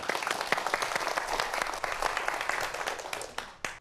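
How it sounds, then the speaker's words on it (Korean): Studio audience on a science talk show clapping to welcome a guest, a lively burst of many hands with sharp individual claps standing out, stopping abruptly at the end. "다시 한번 이명현 박사님을 박수로 모시도록 하겠습니다."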